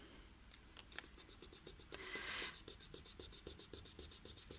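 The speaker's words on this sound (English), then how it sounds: "look now what's happened when I try to erase this one" An eraser rubs back and forth over a pencil line on paper, a close, rhythmic scratchy scrubbing of quick repeated strokes with a slightly louder smear midway.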